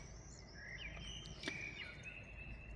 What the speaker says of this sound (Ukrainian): Ви чуєте? Ці пташки для вас.